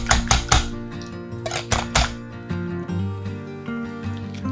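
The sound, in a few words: mixing sweetener into coconut dessert in a bowl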